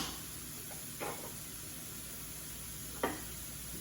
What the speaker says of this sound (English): You shouldn't have to saute this for more than about 5 or 6 minutes.